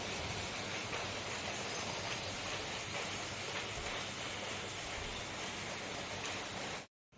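Steady rain falls on a dull, overcast day, a dense, even hiss that holds at the same level throughout before cutting off abruptly at the end.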